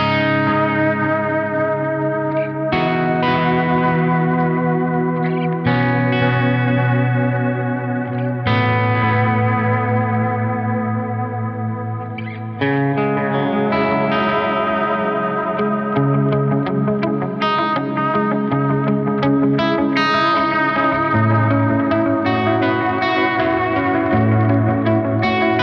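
Electric guitar played through a Suhr Discovery analogue delay pedal and a Walrus Fathom reverb, sustained chords and notes ringing out with repeating echoes and a lush reverb tail, loud and continuous with no talking.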